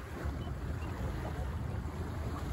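Steady wind noise roars across the microphone aboard a Buccaneer 18 sailboat out on the water, a constant broadband rush with no voices.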